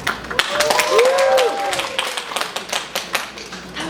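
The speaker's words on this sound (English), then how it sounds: "And I and Lydia give you all a huge round of applause for showing up and showing out." An audience at a live house music show claps and cheers, scattered sharp claps under a rising voice with a whoop, fairly close and moderately loud.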